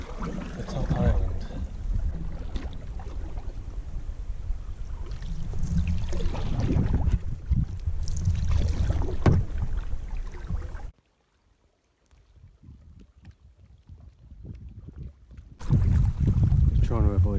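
Canoe out on Loch Maree, the boat and water sounds steady under wind buffeting the microphone, dropping almost to silence for a few seconds before picking up again near the end.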